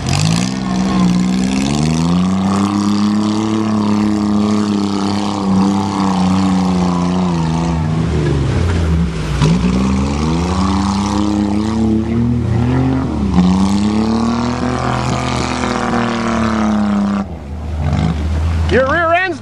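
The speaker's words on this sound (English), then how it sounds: "Chevy motor." A Chevy motor in a jeep mudding on a farm revs hard and loud, rising and falling in repeated roaring surges, with people talking and shouting over it.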